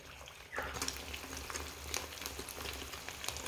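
Duck eggs, seasoned with pepper and frying in a pan over medium heat, kick into a steady sizzle with soft crackling pops, near and continuous after a brief quiet start, with no talking.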